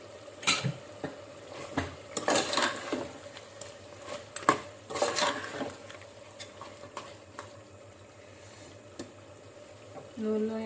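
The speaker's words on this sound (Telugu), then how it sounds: "మూత తీసుకొని మళ్ళీ ఒకసారి కలుపుకుందాం" Mutton in oil in a pot is stirred with a spoon, giving a series of irregular scraping and clattering strokes over a faint sizzle, then a quieter stretch near the end.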